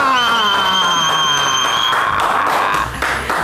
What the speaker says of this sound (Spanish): Y le vamos a recibir con un fuerte aplauso a nuestra amiga de hoy